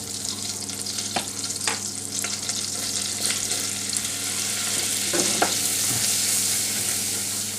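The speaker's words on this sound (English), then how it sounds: "you need to stir in 25 grams of plain flour once the butter has fully melted" Plain flour being stirred into melted butter in a pan for a cauliflower cheese sauce, a steady close sizzle with soft scraping strokes of the spoon and a few louder clicks against the pan.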